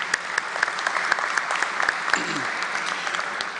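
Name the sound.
applause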